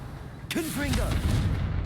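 A Confringo fire spell cast in Hogwarts Legacy, a sharp burst followed by a swirling, whooshing magical blast, with a brief mutter of voice around it.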